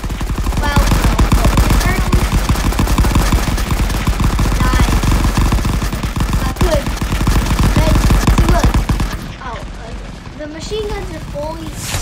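Machine gun fire in the Rising Front video game rattles in dense, continuous bursts that dominate the mix, with scattered shots and someone talking over it before the firing thins near the end.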